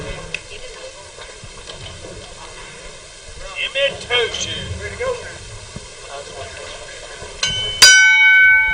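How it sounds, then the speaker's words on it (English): A boxing match's opening bell rings out once near the end, a bright metallic strike with a long ringing decay, following a stretch of arena crowd murmur and background noise. "And that's the sound of the opening bell."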